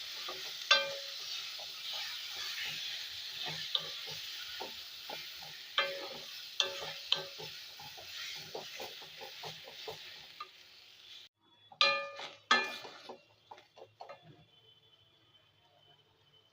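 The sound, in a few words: spice paste sizzling and stirred into frying vegetables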